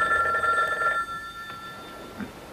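A telephone rings in a short electronic trill for about a second, then falls quiet while faint room noise continues, with a small brief sound near the end.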